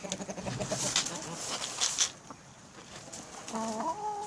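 Backyard laying hens cluck and chatter close by in a coop, several short overlapping calls over a rustling background, with a clearer drawn-out cluck near the end.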